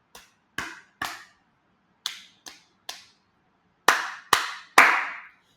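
Hand claps in body percussion with children, nine sharp claps in an uneven rhythm, the first six lighter and spaced, the last three louder and closer together.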